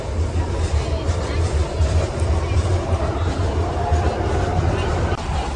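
A Fortaleza metro train rolls steadily along the rails in a low, continuous rumble with faint rhythmic rail noise, heard from inside the carriage under a murmur of passengers' voices.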